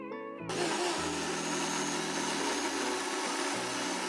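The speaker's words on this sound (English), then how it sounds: "We'll now add in the bananas and the oats and blend that until it's really smooth" A blender motor kicks on abruptly and whirs steadily as it purees bananas and oats into a smoothie, its pitch shifting slightly as the contents churn.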